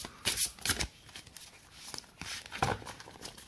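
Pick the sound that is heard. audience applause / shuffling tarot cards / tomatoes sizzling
shuffling tarot cards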